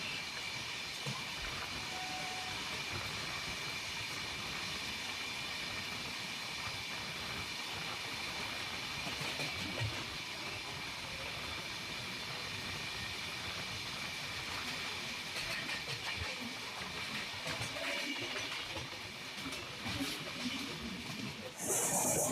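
Guru Dev Superfast Express from Shalimar to Nagercoil Junction running at the Renigunta outer, heard as a continuous steady rumble and hiss of rail travel with faint rhythmic clatter throughout.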